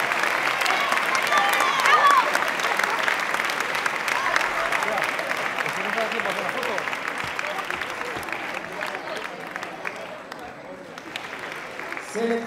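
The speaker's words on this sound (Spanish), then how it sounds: "Fuerte el aplauso para ellos." Steady, sustained applause from a large indoor audience at a regional sports awards gala for junior athletes, dense and even throughout, slowly thinning toward the end.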